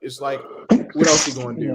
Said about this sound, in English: Next time you gotta sneeze, just mute yourself.